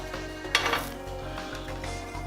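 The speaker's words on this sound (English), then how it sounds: "We're going to crank the heat up on this to high and get these steaks on" Top sirloin steaks set down on a Chefman indoor grill turned up to high, giving a couple of sharp clattering knocks of meat and utensils on the plate over a low, steady background hum.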